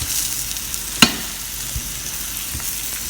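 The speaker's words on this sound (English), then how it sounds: "I've added potatoes. This I'm going to put it directly and just crush it" Boiled potatoes crushed with a cooking spoon or spatula in a frying pan over a steady background sizzle, with one sharp scrape or knock near the start and soft stirring noises.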